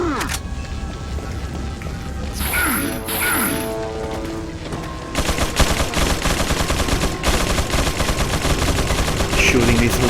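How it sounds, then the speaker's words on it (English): Loud, rapid gunfire rattles continuously in Resident Evil 4 on professional mode, with bursts and impacts, sharper crashing hits early on, then a dense sustained volley through the second half. "Shooting me through the wall."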